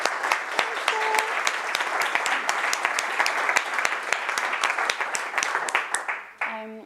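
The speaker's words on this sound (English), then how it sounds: "So can we have a round of applause for Phil," A meetup audience at a testing talk gives a sustained round of applause for Phil, dense and even, tapering off near the end as a voice briefly comes in.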